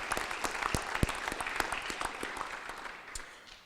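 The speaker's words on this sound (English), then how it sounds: "Let's give them a big round of applause." Audience applause fills a school district town meeting, a dense, steady clapping from many hands that holds strong and then gradually tapers toward the end, with no talking over it.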